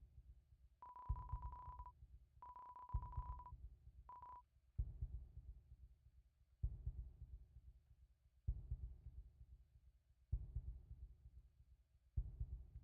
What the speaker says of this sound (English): Is that like a heartbeat sound in the back?